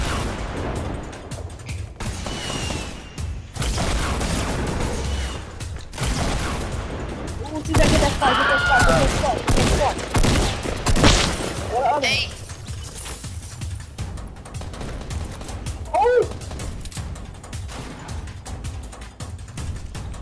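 Video game gunfire and explosions in Fortnite crackle and boom in bursts, thickening into heavy, loud shooting midway, with players talking over the action.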